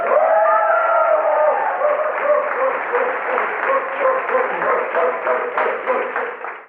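An audience at a talk event breaks into sustained applause, a dense patter of many hands with a few cheers rising at the start, voices mixed in, then tapering off at the end.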